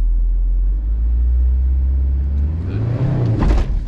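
Honda S2000 with a manual gearbox pulling away on a hill as the clutch is let in, a steady low engine rumble that rises in revs toward the end, close inside the car, with a brief spoken word.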